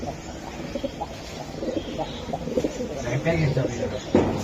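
Pigeons coo softly in low, throaty bursts amid a busy mix of nearby bird sounds at a pigeon market, with people's voices murmuring underneath.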